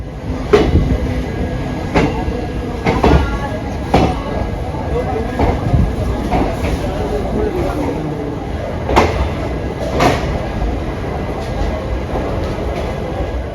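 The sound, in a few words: Darbhanga special passenger train running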